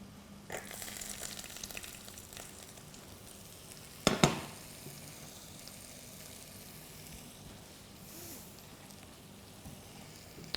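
A pan sizzles steadily while red wine deglazes it after searing cheek meat, a soft frying hiss throughout with a sudden loud sputter and crackle partway through before settling back to a gentle sizzle.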